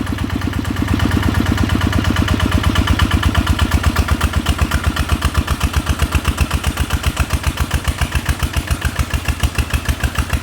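A small single-cylinder engine idles close by with a steady, loud chugging beat, its revs climbing in a sustained run before settling back into an even, rapid thump.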